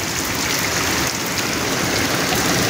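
Heavy, unexpected rain pours down steadily in a close, unbroken wash of hiss and roar that stays even throughout, with no talking.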